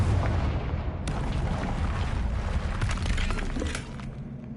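A Confringo explosion spell in Hogwarts Legacy lets out a loud, sustained blast with crackling debris throughout, flaring sharply near the start and easing slightly toward the end.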